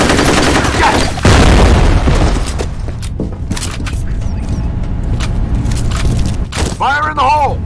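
A loud grenade explosion in the shooter game F.E.A.R. sets off a heavy boom amid gunfire, with crackling debris and combat noise afterward and game voices shouting over it.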